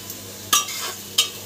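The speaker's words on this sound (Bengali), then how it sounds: "পেঁয়াজগুলো এখানে মোটামুটি ভাজা হচ্ছে" Onions fry in a pan with a low, steady sizzle broken by two sharp scraping stirs of a utensil against the metal, heard up close.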